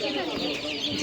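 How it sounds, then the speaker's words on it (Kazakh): Chickens and chicks at a busy animal market, clucking and cheeping closely amid crowd chatter and background talk, brief and continuous. "Обычный жайдары, тооктордун жөжөлөрү, балапандары."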